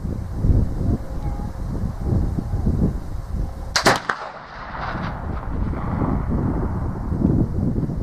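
A single loud shot from a Euroarms Kentucky flintlock rifle fired outdoors, a sharp crack followed by a short decaying boom, over steady wind and background noise.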